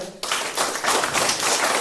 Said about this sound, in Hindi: आपने आपके लिए एक बार जोरदार तालियां हो जाए।